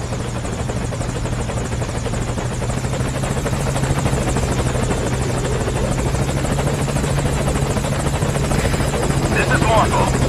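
A helicopter arriving at a landing zone in Metal Gear Solid V, a loud continuous rotor thrum and engine whine filling the whole stretch, steady and close.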